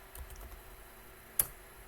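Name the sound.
typing numbers on a computer keyboard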